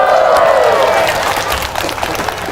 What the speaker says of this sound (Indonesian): Tadi tepuk tangannya yakin saya.